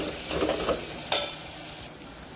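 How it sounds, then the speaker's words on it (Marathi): Curry leaves and turmeric sautéing in a dal tempering, a close steady sizzle with a spatula scraping and stirring through it. "कढीपत्त्याला छान परतून घ्यायचं"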